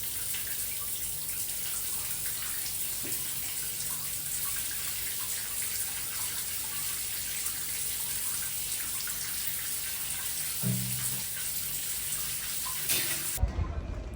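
Shower water running steadily while hair is washed, a constant close hiss of spray with faint splashes that ends abruptly just before the finish, no talking.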